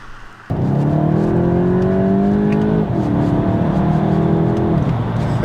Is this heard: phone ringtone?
no